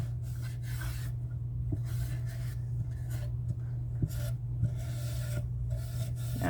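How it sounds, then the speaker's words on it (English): Steady, close scratchy rasping of a hand sanding block rubbed back and forth on an old wooden wall shelf, with a low electrical hum underneath. "Sanding block that I'm using."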